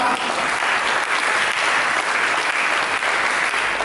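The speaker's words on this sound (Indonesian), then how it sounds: "Mari kita berikan tepuk tangan." Steady, dense applause from a church congregation at a sermon, filling the full length without pause and with no voices rising above it.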